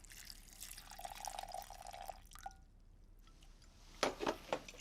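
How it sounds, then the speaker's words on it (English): Water splashed over a pile of torn dates and cinnamon, with a steady trickling pour for a couple of seconds, then a pause and a few louder wet splats and drips near the end. "a generous splosh of water"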